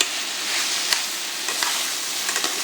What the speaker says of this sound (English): Now the garlic, you're just gonna cook it until it's a little fragrant.